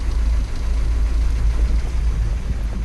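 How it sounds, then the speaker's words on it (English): Twin 454 marine engines on a boat idle together at about 800 RPM, a steady, loud low-pitched rumble with no talk over it. "Both engines idling 800 RPMs"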